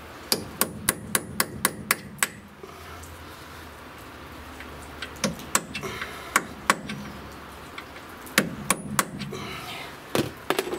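A Daewoo Lanos wheel hub bearing being knocked out without removing the strut: sharp, ringing metal hammer blows come in quick bursts of regular strikes, loud and close, with short pauses between runs.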